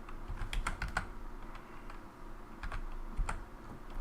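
Clusters of computer keyboard keystrokes tap out in short uneven bursts with pauses between, fairly close but quiet against a low room hum, with no voices.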